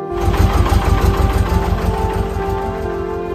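A small country boat's marine engine with brake gear runs close by, giving a loud, steady, rhythmic chugging over a constant droning hum, with no voices.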